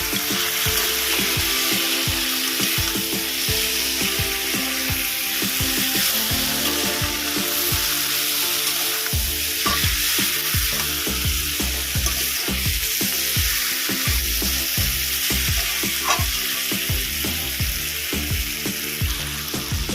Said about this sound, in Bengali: আমি এবার মাছের মাথা দিয়ে দেবো ভালো করে মিশিয়ে নেবো